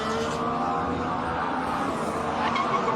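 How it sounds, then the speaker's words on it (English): Formula 1 cars at the 2014 Austrian Grand Prix, a sustained tonal whine of racing engines and tyre squeal carrying steadily from a distance with no voices over it. "We heard the squealing tyres, didn't we?"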